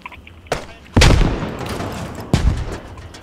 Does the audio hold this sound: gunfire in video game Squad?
yes